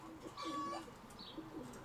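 Pigeons coo softly during a summer heatwave, a faint, close call near the start followed by quieter chirps and rustling.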